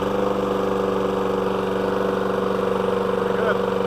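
A PowerPro 22-inch lawn mower with a 4.5 HP Briggs & Stratton Quantum engine runs at a steady, droning pace, close and loud, its even hum holding without letup.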